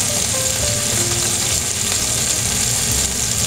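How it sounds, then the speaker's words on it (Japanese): Long green onions steam and sizzle in a covered pan, giving a steady, dense crackling hiss that holds evenly throughout without any talk. "蓋をして蒸し焼きにすることでネギのとろりとした食感が楽しめます。"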